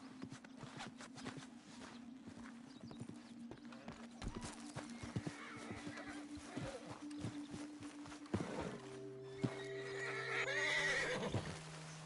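A spooked horse in Red Dead Redemption 2 whinnies and neighs loudly over steady clip-clopping hooves, with a sharper, louder burst of neighing near the end and no talk.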